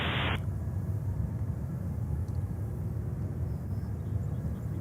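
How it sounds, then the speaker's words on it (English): A British Boeing 777-300 arrives at JFK from London Heathrow, heard as a steady, low, broadband jet roar that holds evenly throughout and never fades. "We see here British 777-300 coming in from London Heathrow."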